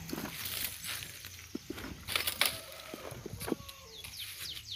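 Chickens cluck and squawk on a farm, in short scattered calls over rustling and outdoor background noise, with a few sharper bursts and no clear talk.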